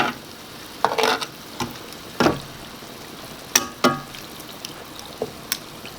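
Sliced mushrooms with steak sauce are stirred in a hot cast iron pan, sizzling steadily while a utensil scrapes and clanks against the iron in several short bursts, close and fairly loud, with no talking.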